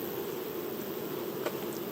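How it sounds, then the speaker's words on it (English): Bees flying through an urban food garden near comfrey, a faint steady buzzing with one brief closer pass, quiet and without voices. "We're going to go through the bees' flight path, which is not too bad."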